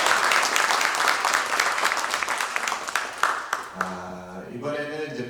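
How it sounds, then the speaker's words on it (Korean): Audience applause fills a church conference hall at the closing day, dense steady clapping that fades out after about four seconds, followed by a single voice beginning to speak. "박수."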